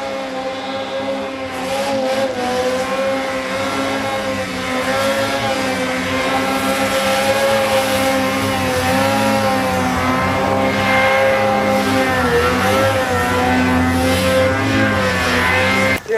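Ski-Doo Freeride Turbo 146 snowmobile, a 2025 model, pulling hard: a loud, sustained engine drone with wavering pitch as it revs and bogs, continuous throughout and heard alone in the snow.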